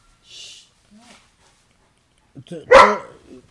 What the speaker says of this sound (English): every time it says Assalamu alaikum, Doogie starts barking